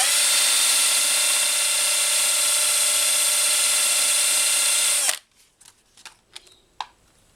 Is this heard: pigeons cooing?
no